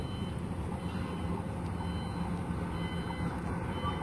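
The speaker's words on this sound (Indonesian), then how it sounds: "Di atas ada truk lewat." A truck passing by overhead on a road above, a steady low rumbling drone with faint rattling, continuous and moderately loud, with no voices.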